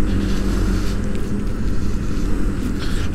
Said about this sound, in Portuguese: Parece ser a moto dele.